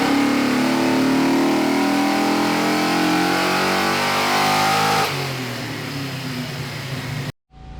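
Fox Body Mustang with Holley Sniper fuel injection on a dyno, engine pulling hard in a loud, climbing rev sweep, then dropping off to a lower settling tone before cutting out abruptly at the end.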